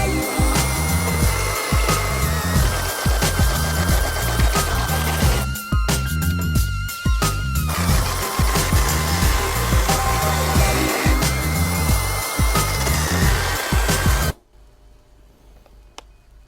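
Steady, loud whine of a Sturm CC9940CL 40-volt cordless chainsaw cutting a wood board, with a rapid rhythmic chatter, pausing once briefly, then cutting off abruptly into near silence with a faint low-battery beep.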